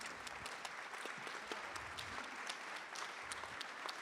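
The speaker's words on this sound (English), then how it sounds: "Can you please rise so that we give you a proper round of applause?" A conference audience applauds youth leaders at an education ministry event in Namibia, giving sustained, even clapping from many hands that fills the room without pause, fairly quiet and with no voices on top.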